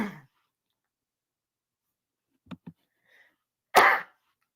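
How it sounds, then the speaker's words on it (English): Two sharp sneezes with long silences between them: a short double burst mid-clip, then a louder, fuller sneeze near the end, close to the listener. "that was 2 sneezes."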